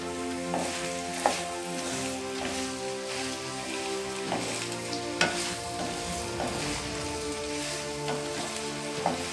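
Oil crackles and sizzles steadily as pirandai (veldt grape) stems fry in a pan, with occasional sharper pops and stirring scrapes over a constant hiss, with background music.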